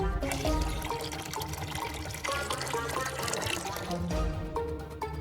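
Water is poured and splashes into a small LEGO washing build, giving a busy, close liquid sound with clattering over a short, steady stretch.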